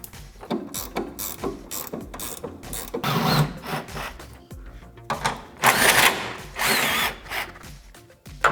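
An impact gun or ratchet works 17mm bolts on a car's upper A-arm during a coilover install, with a rapid rattling burst, pauses, then longer louder bursts of whirring hammering, close up.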